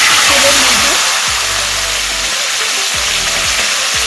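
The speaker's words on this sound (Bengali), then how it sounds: "এবার চিকেনটাকে আমি একটু ব্রাউন করে ভেজে নেব। এই সময় গ্যাসের ফ্লেমটাকে আমি হাই রেখেছি।" Medium-sized chicken pieces frying in oil over a high gas flame give a loud, continuous sizzle with a broad hiss. Occasional low thumps come through.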